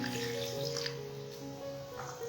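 Chutney water being poured into a cooking pot of spiced mutton yakhni for pulao, a steady continuous liquid pour with dripping and splashing that runs the whole time, fairly close and alone with no talking.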